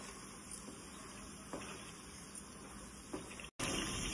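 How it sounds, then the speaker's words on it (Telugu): Chicken pickle with cashew powder frying in a pan gives a steady close sizzle, broken by several scraping stirs of a wooden spatula from the bottom, with a brief cutout near the end and no talking. "ఇలా అట్ల పుల్ల తీసుకొని ఇలా అడుగు నుంచి కలుపుతూనే ఉండాలి."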